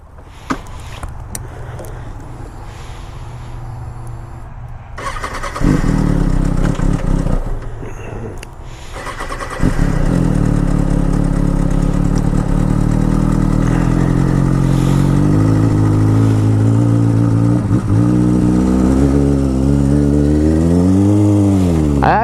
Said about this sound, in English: Let's take this bike for a spin.